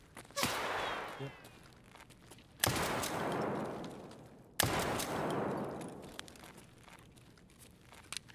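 Saiga 12 shotgun blasts in a shooter video game: three loud, sharp booms spaced about two seconds apart, each followed by a long decaying rumble and echo.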